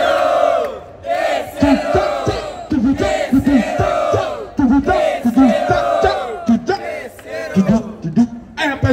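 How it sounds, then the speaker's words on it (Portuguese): A rap battle crowd shouts and chants in loud, rhythmic bursts, with scattered clapping between the voiced cries. "Salve de palmas pra batalha,"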